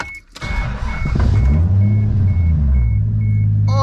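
A Toyota Supra engine revs up and pulls away on its first drive, a deep, steady rumble rising close by, with a repeating electronic beep over the top.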